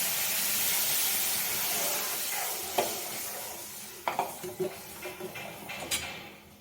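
Water hits semolina in a hot pan with a steady steamy hiss, followed by a few close, sharp scraping stirs and clinks of a utensil against the pan.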